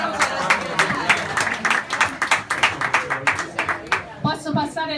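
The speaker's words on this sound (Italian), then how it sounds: "Applauso." An audience at a town meeting with residents in Principina a Mare claps in a rhythmic, moderately loud round of applause that fades near the end as a voice begins.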